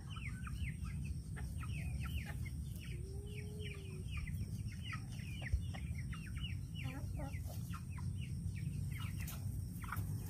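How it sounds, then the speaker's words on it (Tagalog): Rhode Island Red chickens on a farm clucking, with many overlapping short calls from a flock against a steady low background hum, fairly faint and distant. "Ayan po ang Rhode Island Red natin."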